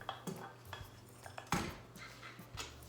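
Chocolate is worked into Mexican chocolate crinkle cookie dough in a bowl, with soft intermittent clinks and scrapes of a utensil against the bowl, quiet and close.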